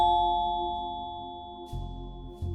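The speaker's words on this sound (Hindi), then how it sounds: "एक डोरबेल जो उसकी जिंदगी का आखिरी पल बन गया।" A doorbell chime in a horror audiobook scene rings out clearly and fades slowly, followed by a couple of soft bumps and shuffling noises. No voices are heard.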